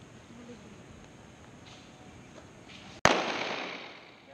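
A single sharp gunshot cracks loudly at an outdoor firing range, cutting through faint background hiss and ringing out in a decaying echo afterward.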